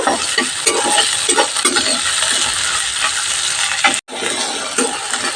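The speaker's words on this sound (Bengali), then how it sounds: "পেঁয়াজও হালকা ভাজা হয়ে গেছে" Chopped spring onion bulbs with garlic sizzle steadily in a pan, with repeated clinks and scraping stirs of a utensil over the continuous frying hiss.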